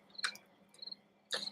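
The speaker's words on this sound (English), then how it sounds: "I hear crickets." Crickets in meditation music chirp in short bright bursts, three clusters spaced across the moment over a soft steady background, faint and alone with no voices.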